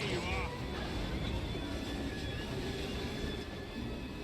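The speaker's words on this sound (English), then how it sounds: "He's going to take off on a train." A train in the video game Assassin's Creed Syndicate gives a steady, continuous rumble with faint squeals, holding at an even level throughout.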